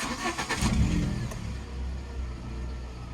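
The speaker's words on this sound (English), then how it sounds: "We'll give it a start up. Start up on the button." A Ford Ka engine cranks over in a few quick bursts, then catches and settles into a steady, rumbling idle, close and loud with no one speaking.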